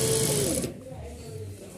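An electric sewing machine stitches a fabric waistband casing on a child's pajama trouser, giving a brief fast whirring run that stops partway through, close by, followed by quieter room sound.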